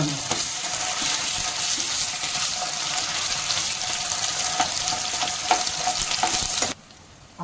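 Ginger garlic paste sautéing in hot oil for a Maharashtrian ridge gourd curry, a continuous close sizzle with stirring clinks, cutting off abruptly near the end.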